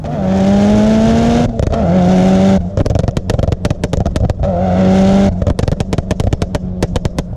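A turbocharged Mitsubishi Evo 6 RS engine revs hard in repeated bursts, rising pitch then dropping, with sharp crackling pops between pulls; loud and close, no talking.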